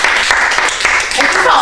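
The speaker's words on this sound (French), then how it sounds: "On t'applaudit, vite fait." A handful of people clap briefly and loosely at close range, with voices overlapping the applause.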